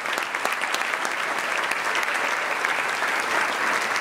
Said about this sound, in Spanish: creo que vale el aplauso